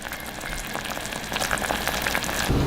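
Kho quẹt sauce simmering gently in a pot as it reduces and thickens, a steady close bubbling sizzle running throughout at even loudness, with no talk.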